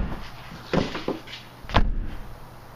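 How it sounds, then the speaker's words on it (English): A Subaru WRX/STI car door swings shut after a rain visor is fitted, with a few soft thuds and rattles followed by one solid, close-up closing slam and no talking. "you just want to make sure the door closes nice and seamly"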